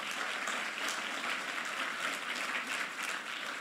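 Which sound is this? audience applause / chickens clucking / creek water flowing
audience applause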